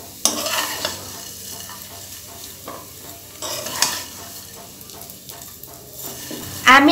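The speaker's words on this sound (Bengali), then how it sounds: "আমি এখানে 2টা চামচ ব্যবহার করে সেমাইগুলোকে উল্টে পাল্টে ভেজে নিচ্ছি" Dry vermicelli is fried and stirred with two metal spoons in a pan with whole spices, giving a soft continuous sizzle under repeated scraping and clinking strokes, close and fairly quiet.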